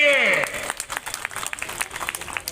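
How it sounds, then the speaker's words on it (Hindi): An outdoor crowd at a government beneficiary event in Biaora gives steady, moderate applause, with scattered claps continuing for a couple of seconds after a speaker's voice trails off at the start. "ताली बजाइए उनके लिए।"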